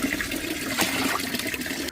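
Water rushes steadily into a 10-litre bucket being filled for a terrace garden potting job. The flow is loud, continuous and close for about two seconds, then cuts off abruptly.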